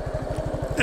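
A motorcycle idles nearby as it is being parked, its engine giving a quick, even train of low thumping pulses that stays steady to the end.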